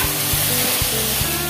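Fish fat hits a hot pan for a potato and brinjal fish-fat charchari, giving a steady close sizzle and spray-like hiss with faint low hum, no talk.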